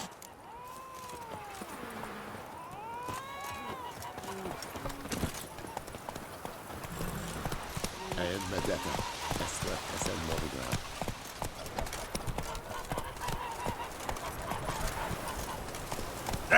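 Hoofbeats of the horse galloping in The Witcher 3 video game, a fast rhythmic clip-clop that builds and holds steady under game music, with a voice speaking over the first seconds.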